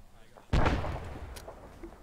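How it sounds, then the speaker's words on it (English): A grenade goes off inside a building in a military video game, a single sudden booming blast that rumbles and fades over a couple of seconds, with voices nearby. "Grenade in that building there."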